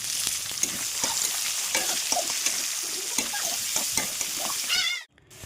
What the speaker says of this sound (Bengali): দেখো এদিকে পেঁয়াজ ভাজা হচ্ছে